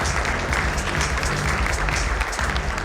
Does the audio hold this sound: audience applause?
yes